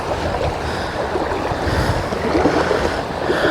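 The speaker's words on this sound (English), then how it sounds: "I can nearly walk across the creek right here." A shallow trout creek flows in a steady, broad wash of moving water, continuous and fairly loud, with some wind noise over the microphone.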